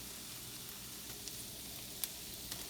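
Onions frying in a pan while being stirred give a steady, low sizzle that runs the whole time, with a few faint scrapes and light clicks here and there.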